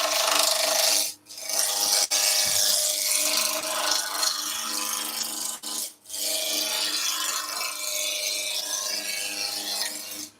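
A woodturning gouge cuts a spinning wood spindle on a lathe, producing a steady, loud, close hiss of shavings that runs throughout, broken by two short gaps where the tool lifts off the wood.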